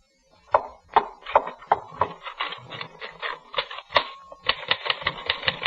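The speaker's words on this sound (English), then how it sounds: "Then I was back at my typewriter," Typewriter keys strike in an old-time radio suspense drama, sharp close clacks coming in uneven bursts, then quickening into a rapid steady run of typing with a bell-like ring partway through.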